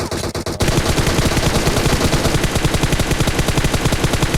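Sustained automatic gunfire spraying in PUBG Mobile, a dense rapid stream of shots firing nonstop and loud after a brief quieter opening.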